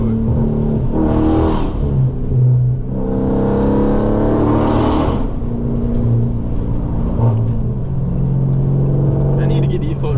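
Fully straight-piped Dodge Charger Scat Pack engine revving and droning loudly, with bursts of acceleration, heard from inside the car amid traffic while someone talks over it.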